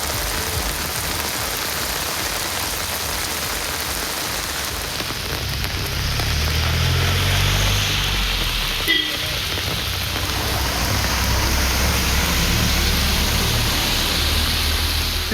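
Heavy rain pours in Sivaganga district, a dense, loud, unbroken roar of water on surfaces with a low rumbling swell partway through and a brief sharp knock near the middle.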